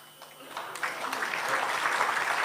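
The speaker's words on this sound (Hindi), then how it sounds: "अभी आप ताली बजा रहे हैं" Applause from a political rally audience builds from scattered claps into a steady crowd clapping that grows louder toward the end.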